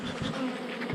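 A brief, steady drone of honeybees swarming close around their hive, the buzzing rising slightly near the end, with no voices.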